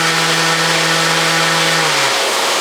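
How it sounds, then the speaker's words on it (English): A dust extractor runs with a Festool sander in a woodworking shop, giving a loud, steady broadband whir with a humming motor tone that drops in pitch near the end. "You will hear in the background the dust extractor starting."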